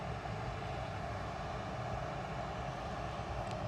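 A Ryanair Boeing 737-800 departing for Belfast from Manchester Airport, its jet engines a steady broadband roar heard from the spotting area, continuous and moderately loud with no voices.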